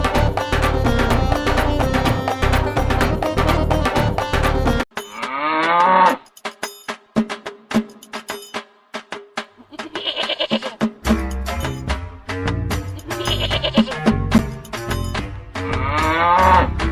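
Cattle or buffalo mooing repeatedly amid loud music, with a few brief quieter gaps, at a goat and livestock market ahead of Bakra Eid.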